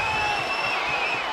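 Arena crowd at an Oklahoma State versus Iowa college wrestling dual meet in 2015, a steady, fairly loud wash of murmuring and cheering spectators with no single voice standing out.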